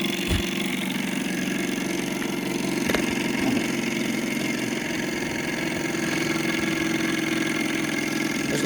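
A Stirling engine runs outdoors in the wind with a steady, droning mechanical hum and a few faint clicks, winding down under friction and compression.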